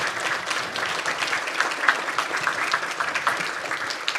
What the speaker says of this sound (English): could everybody please give a round of applause?